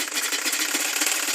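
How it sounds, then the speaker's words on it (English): A domestic sewing machine runs continuously while stitching tote bag fabric, a close, steady mechanical whir with a rapid pulsing texture throughout. "Half an inch, then you sew."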